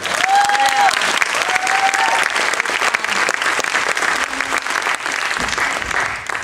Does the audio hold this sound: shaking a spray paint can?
no